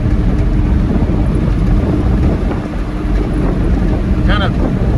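A 1973 Chevy K20 Cheyenne squarebody farm truck, geared low, on a desert road: a loud, steady engine and road rumble fills the cab from start to finish, with faint voices underneath.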